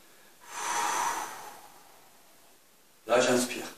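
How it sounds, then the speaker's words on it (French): A person breathing during a muscle-strengthening workout, with a long audible breath out, a quiet pause, then a sharp, close inhale. "Là, j'inspire."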